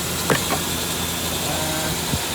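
A 2000 Ford Ranger engine idles steadily after sitting for a long time, a close, even running hum with a couple of faint knocks over it.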